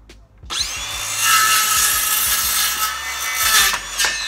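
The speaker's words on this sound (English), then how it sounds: "Now you could cut your line with the skill saw, or you could use your square." A cordless circular saw cuts a board along a marked line, starting after a short quiet moment with a sharp spin-up into a loud, steady whine and rasp that lasts for the rest of the close, continuous cut.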